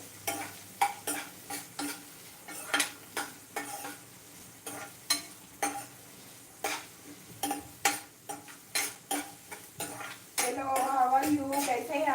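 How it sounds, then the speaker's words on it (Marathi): Onions and green chillies sautéed in oil in a pan, with repeated scraping and stirring clatter against the pan and a steadier sizzle building near the end, while a voice talks intermittently. "कांदे आणि हिरव्या मिरच्या सुद्धा छान अशा परतून घ्यायच्या"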